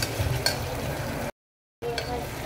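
Onion and tomato fry in a pan for khichdi, giving a soft, steady sizzle with light stirring, broken once by a short gap of silence.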